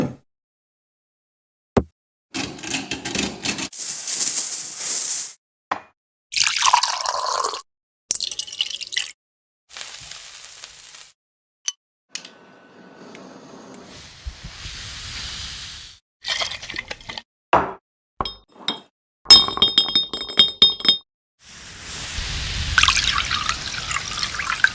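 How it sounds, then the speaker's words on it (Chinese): Wuyutai Enshi Yulu tea liquor poured over pears into a glass jar, with intermittent bursts of liquid splashing and trickling separated by quiet gaps, plus clinks and drips, close and clear. "再倒入吴裕泰的恩施玉露茶酒"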